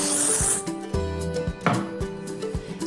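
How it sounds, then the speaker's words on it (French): Hairspray is sprayed onto a second strand of hair before twisting it into a ponytail: a short, bright hiss at the start, then quieter handling sounds over steady background music. "Je prends la deuxième mèche et je laque également."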